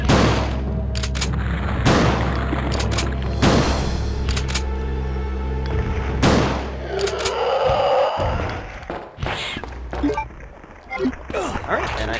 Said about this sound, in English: Now we're gonna switch to the shotgun.